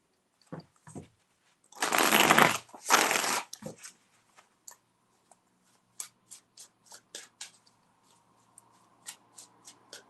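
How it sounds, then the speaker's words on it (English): Tarot cards shuffled by hand, two loud bursts of riffling up close, followed by a string of soft, sharp taps and flicks as the deck is handled. "Three shuffles."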